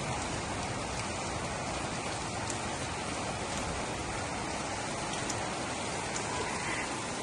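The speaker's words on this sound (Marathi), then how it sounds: "पाऊस पडला" Steady rain falls outside a home, a dense, even hiss with faint drips and taps scattered through it. It continues without a break and with no voices.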